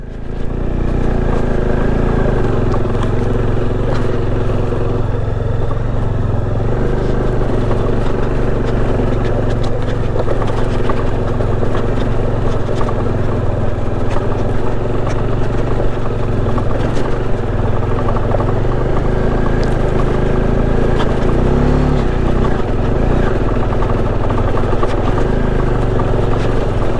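A motorcycle engine drones continuously and loudly while riding off-road on rough mountain trails near Chanshal, Shimla, with steady rumbling and slight shifts in pitch; the bike is in bad shape, rattling front and back.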